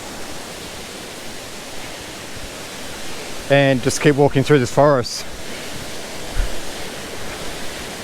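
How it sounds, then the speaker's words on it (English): Steady rushing water from Lilydale Falls in Tasmania runs beneath a forest walk, with someone speaking briefly in the middle over the continuous roar. "there it is, we're just above the waterfall now"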